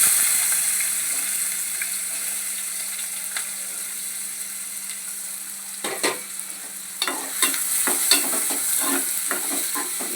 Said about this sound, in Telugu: ఇప్పుడేమో మీడియం సైజ్ 2 ఆనియన్స్ వేస్తున్నా.